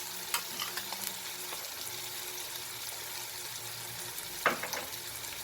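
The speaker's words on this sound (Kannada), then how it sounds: "ಸ್ವಲ್ಪ ಕೈ ಆಡ್ಸೋಣ, ಬೇಗ ಫ್ರೈ ಆಗುತ್ತೆ" Onions frying with turmeric and salt in a pan, a steady soft sizzle with occasional light scrapes and knocks of stirring, close and continuous with no talk.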